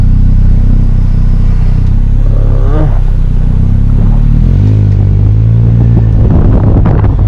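A loud, continuous low engine rumble from a nearby Rewaco trike, with the exhaust note rising and falling as the throttle changes, steady throughout.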